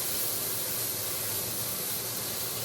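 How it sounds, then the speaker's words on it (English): Vegetables with tomato paste sauté in a hot pan for osso buco with beef shank, giving a steady, close, continuous sizzling hiss with no voices. "we're going to saute all this in here"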